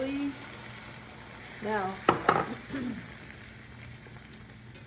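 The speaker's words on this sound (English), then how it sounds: "now I'm going to add the wine" Wine goes into a hot pan of roasted tomato rigatoni sauce and sizzles in a burst of frying crackle, then settles into a steady lower sizzle. A voice briefly speaks near the start.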